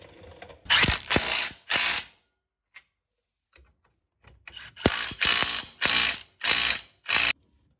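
A hand ratchet clicking in quick bursts while tightening rear wheel bearing hardware on a Polaris Ranger XP, several crisp ratcheting strokes, a pause with faint taps, then a longer run of strokes, close and clear.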